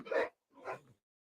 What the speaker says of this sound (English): They're just barking at me.